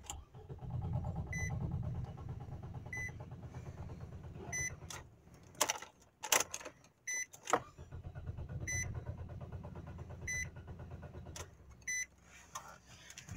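A 2007 Nissan Sentra with camshaft position and timing fault codes cranks in two long, steady, labored bursts without catching, close by, with brief electronic beeps and clicks in the pause between attempts.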